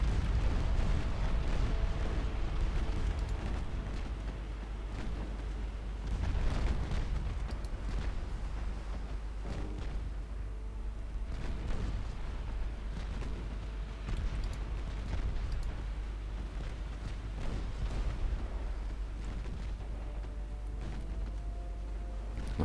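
A torpedo strikes a transport ship in the naval battle game Ultimate Admiral Dreadnoughts, set in 1943: heavy, continuous rumbling explosions with repeated deep booms swelling throughout, with no talking.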